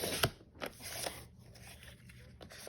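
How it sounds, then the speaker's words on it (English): Scrapbook paper is cut with a few quiet, crisp snips and crunches, close and faint, with short pauses between cuts. "I'm going to go ahead and cut this one while I'm here."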